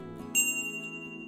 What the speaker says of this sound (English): Go ahead and ring the bell because dinner is served.